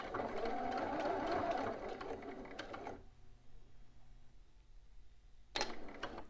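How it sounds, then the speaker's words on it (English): A domestic sewing machine back stitching on a bodice runs in a fast mechanical whir for about three seconds, then stops into near silence before a short rattling burst of the mechanism near the end. "I'm going to stitch down to my large circle, and I'm going to back stitch"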